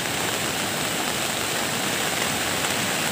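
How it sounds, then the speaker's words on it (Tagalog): Heavy, steady downpour from Typhoon Agaton, a dense, unbroken hiss of rain close by with no pauses or voices. "Kita mo yung ulan, oh,"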